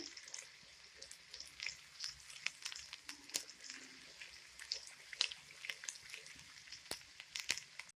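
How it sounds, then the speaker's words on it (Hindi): Chopped ginger and garlic fry with golden onions for Lahori murg cholay, a faint, soft sizzle broken by frequent small crackles and pops, with no talking. "अब इस स्टेज पे आके इसके अंदर ऐड करूंगी अदरक लहसुन चॉप किया हुआ और इसको भी फ्राई करेंगे"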